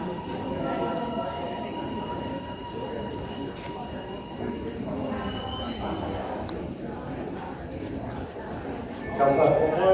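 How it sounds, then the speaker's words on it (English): A metro train arrives at a platform in a new city rail tunnel, giving a steady rumble and a rising mechanical whine near the end, with station announcements and people speaking over it. "Sunbury train now arriving on platform 1."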